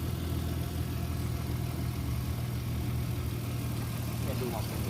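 A 1997 Toyota Camry engine idles steadily after a Seafoam motor treatment, a constant low hum and rumble heard close by with no other sounds rising above it.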